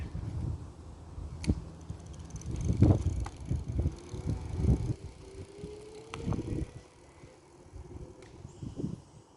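An Ancheer 36V 250W electric bike runs on throttle mode during a ride, with a steady motor whine, rolling tire rumble and wind buffeting, punctuated by occasional bumps and clicks, with no voices.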